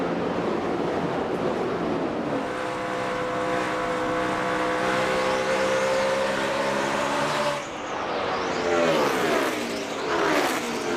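NASCAR Sprint Cup stock cars race at Dover in the AAA 400, a loud sustained engine roar rising in pitch as cars pass close, then a sharp doppler shift as another car sweeps by.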